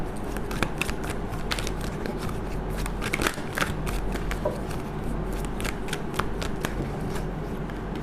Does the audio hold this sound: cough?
no